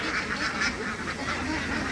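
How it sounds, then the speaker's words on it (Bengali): Native white ducks quacking close by on a duck farm, a dense overlapping chorus of calls that lasts the whole short clip. "এটা ডিন্ডিং জাতের হাঁস এই যে হাঁস এটা দেশি সাদা হাঁস"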